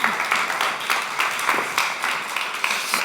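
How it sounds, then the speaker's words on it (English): An audience at a conference session on gender equality in a green and digital Europe applauds, a dense steady patter of many hands clapping at moderate volume throughout. "Big round of applause."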